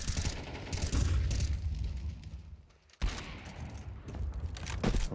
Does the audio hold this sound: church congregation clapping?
no